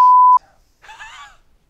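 A loud, steady censor beep runs for about a third of a second at the start, followed by a faint murmur of voice.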